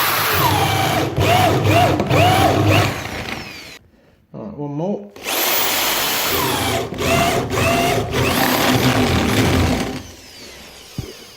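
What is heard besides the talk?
power drill drilling a hole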